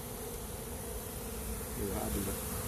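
Nurse honeybees hum over an open brood frame during a Varroa workshop, a soft continuous buzz close by, fairly faint, swelling slightly near the end.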